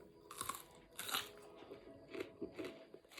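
Raw onion is bitten and chewed close to the microphone, giving a few sharp, wet crunches followed by softer, irregular chewing crackles.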